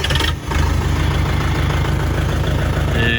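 A UHI tractor engine catches and settles into a steady, rumbling idle with a rhythmic low throb, close and loud throughout.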